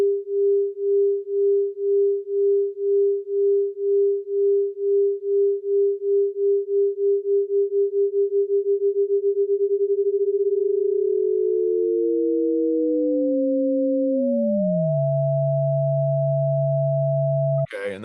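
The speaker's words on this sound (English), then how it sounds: "And that's what we call ring modulation." A pure sine tone pulses in a steady cyclic amplitude bounce under ring modulation, the beating speeding up until the tone splits into two steady pitches, one rising and one falling, clean and alone with no voices.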